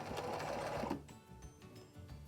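A sewing machine stitches backward along the seam of a bag made from a polo shirt, its fast whirring run loud at first, then stopping and giving way to quieter handling noises.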